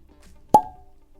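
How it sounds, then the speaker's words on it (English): A single sharp cork pop from a Sazerac Rye whiskey bottle, close and loud, with a brief ringing squeak trailing off in an otherwise quiet room. "Pretty good cork pop"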